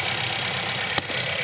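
Faulty 2016 Ford Explorer 3.5 EcoBoost V6 engine running at idle, a steady close mechanical hum and whir with a brief click near the end and no talking.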